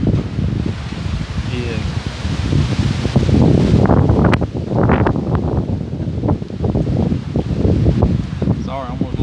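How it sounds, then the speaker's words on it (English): Strong wind gusting through woods, a broad steady roar with rustling leaves, close and loud throughout, with someone talking over it. "that wind's really kicking it now"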